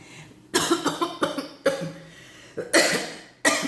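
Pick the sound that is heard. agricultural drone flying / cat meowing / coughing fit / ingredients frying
coughing fit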